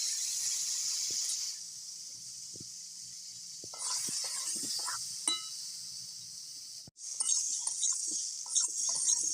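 Pre-boiled potatoes fry in leftover oil with turmeric and salt in a kadai, giving a soft, steady sizzling hiss with a few light clinks of a utensil against the pan.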